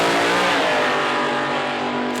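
A drag car at a private drag racing event accelerates hard down the strip, a loud, high-revving engine roar with rising pitch that stays close and fills the whole moment.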